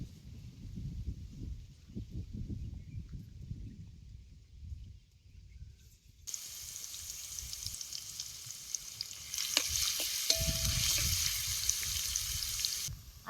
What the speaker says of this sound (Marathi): आता हे चेचलेलं लसूण यात टाकतो.